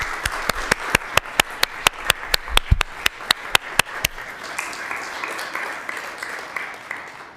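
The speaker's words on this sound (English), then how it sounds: "So if you'll join me in giving those folks a round of applause," Audience at a city council work session applauding, a run of sharp, distinct claps from a small group in a meeting room, loud at first and thinning to scattered, softer clapping.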